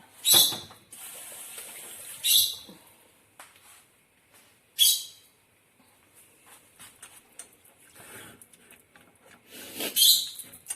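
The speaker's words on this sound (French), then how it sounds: "Et on va continuer de mélanger." A spoon scrapes and rubs through thick salted butter caramel with cream in a pan, four or five distinct stirring strokes with quieter scraping between them.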